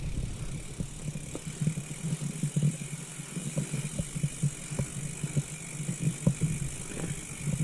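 A bicycle ridden over a bumpy off-road trail on the King Alfred's Way route, with continuous rattling and irregular knocks and jolts close up, and no talking.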